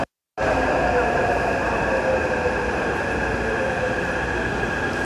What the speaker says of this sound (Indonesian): Terus merah ya, tandanya mau datang keretanya